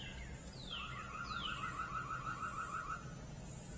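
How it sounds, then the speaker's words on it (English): A Reolink 4K WiFi security camera sounds its built-in alarm siren, a rising electronic whoop followed by a rapid warbling tone, heard from some distance, lasting several seconds. "If you want to trigger the alarm"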